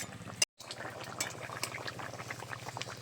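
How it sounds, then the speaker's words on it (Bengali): Curry with cumin paste simmering in a pot for a fish and taro-potato dish, giving a steady soft bubbling and gurgling with small pops, close and moderately quiet, briefly cut out near the start. "জিরে বাটাটা দিয়ে একটু ফুটিয়ে নিয়েছি"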